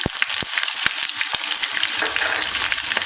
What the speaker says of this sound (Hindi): अब ये प्याज डाल देंगे इसमें।